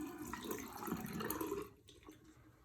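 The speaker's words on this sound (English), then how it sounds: "I gotta pull the water out first." Water being poured out of a 3M V9105 N95 mask after a test, a brief splashing, trickling pour lasting about a second and a half before tapering off into a few faint drips, fairly close and with no talking.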